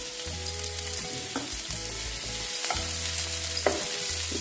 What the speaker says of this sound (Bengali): তেলটা গরম হয়ে গেছে, আমি পেঁয়াজ দিয়ে দিচ্ছি।